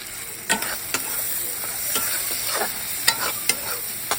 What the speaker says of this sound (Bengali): এই যে তেল বসিয়েছি, এবার শাকটা ভাজবো